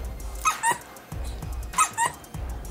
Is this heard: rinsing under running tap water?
no